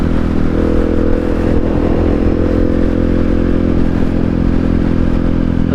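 A 2019 Husqvarna SM 701 supermoto idles loud and close with a steady, throbbing single-cylinder drone and a faint mechanical clatter, holding an even level with no clear revs.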